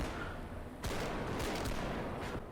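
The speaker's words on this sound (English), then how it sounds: "some of the gunfire does sound like firecrackers going off" Gunfire in the video game BodyCam: a rapid cluster of sharp, crackling shots popping like firecrackers over a rumbling, reverberant background, dense and fairly near, with no voices.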